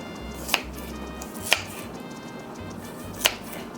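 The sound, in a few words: knife cutting asparagus diagonally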